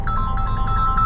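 A phone rings inside the cab of a Ford F-750 truck on a highway drive, giving a short, steady electronic ringtone at moderate loudness with a low engine rumble beneath it.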